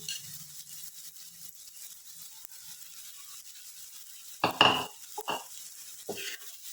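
Cooked basmati rice is mixed in a pan for restaurant-style Chinese veg fried rice. After a quiet stretch, a few loud scraping clatters of a spoon against the pan come close by, and no one speaks.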